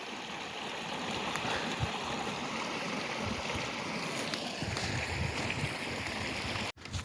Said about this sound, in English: So there's like my mini waterfall over here.